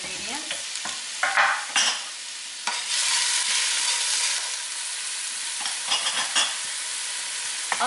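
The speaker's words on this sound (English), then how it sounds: "you'll add 1 onion chopped, and let that saute just a little bit" Chopped onion sautés in a large pot, a bright continuous sizzle that surges and fades as it is stirred, with soft scraping and clatter of the stirring utensil and no talking.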